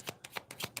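Tarot cards being shuffled by hand in four or five quick riffling bursts, each a crisp papery rustle separated by brief pauses, close and fairly loud with no talking.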